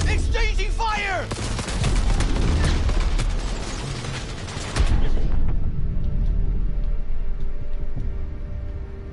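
Gunfire being exchanged in a game firefight, with rapid cracking shots and clattering mechanical noise through the first half, then a heavy blast before a quieter, muffled tail.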